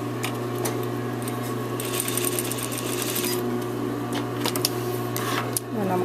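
A sewing machine runs steadily and close up, stitching the front facing of a shirt with a constant motorized hum and brief pauses, ending with a short shift in pitch as it slows.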